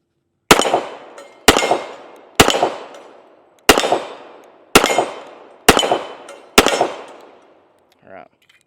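Seven sharp pistol shots from a Colt M45A1 ring out at a swinging steel target, spaced roughly a second apart, each with a loud crack and a ringing decay, followed by a brief faint sound after the last shot.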